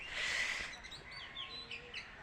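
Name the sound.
birds chirping around a rural house by a pond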